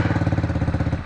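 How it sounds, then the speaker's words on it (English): A small Chinese four-wheeler engine idles steadily with a rhythmic chugging putter, close and continuous, no voices. "Yeah, it starts no problem. It's idling fine now."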